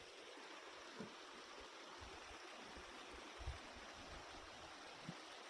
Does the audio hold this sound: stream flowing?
yes